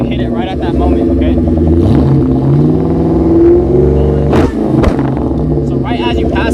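A Ford Mustang engine revs hard past 3,000 RPM, its loud exhaust roaring and climbing, then snapping with a couple of sharp pops, while someone talks over it up close.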